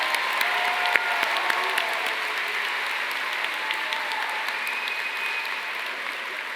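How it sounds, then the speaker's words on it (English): A university arts commencement crowd claps steadily, a dense, even wash of applause from many hands that holds at a constant level throughout without cheers standing out. "Let's give a huge round of applause to our name readers."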